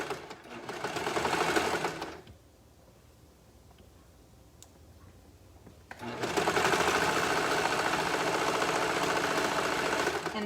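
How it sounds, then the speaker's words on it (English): Sewing machine stitching the side seam of a sweater, a loud, steady mechanical whir in two runs separated by a few seconds of quiet. "And then sewing down the side of the sweater with the bottoms matching."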